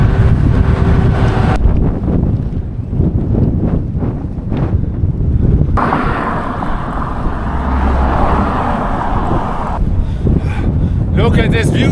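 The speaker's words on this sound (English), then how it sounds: "Whenever there's a massive wind gust," A massive, continuous gust of wind roars into the microphone on a bridge while cycling in remote China. The buffeting rumble is loud and unbroken throughout, with no clear voices.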